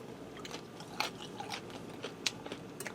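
Close, crisp crunching of teeth biting into chili cheese mac and cheese topped with chili cheese Frito chips, several quiet irregular crunches over about three seconds with no talking.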